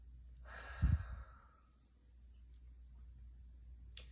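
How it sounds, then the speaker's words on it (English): A deep, slow breath in and out during a guided relaxation, one soft airy inhale-exhale swell near the start, then quiet room tone and a tiny click at the end. "Let's just give a big inhale and exhale."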